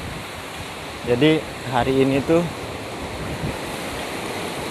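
Waves wash onto a beach in a steady, broad roar of surf, with a person talking briefly over the continuous rush of water.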